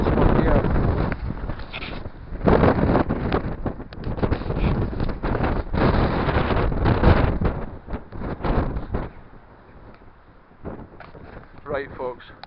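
Wind gusts and buffets the microphone at the eroded walls of an ancient red castle ruin in Scotland, loud and roaring for most of the stretch before easing to a softer rush near the end.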